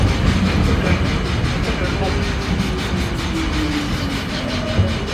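An R32 subway car on the New York D train runs along the line, a loud continuous rattling roar of wheels on track with rhythmic clatter throughout, heard from inside the moving car.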